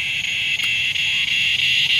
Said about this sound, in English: That is a loud cicada.